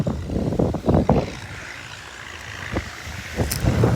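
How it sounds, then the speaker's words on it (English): An Oliver Super 66 tractor engine labors while pulling a disc through a chunky field in fourth gear, a steady low rumble with intermittent heavier surges, heard outdoors with wind against the microphone and no talk. "That poor tractor doesn't like fourth."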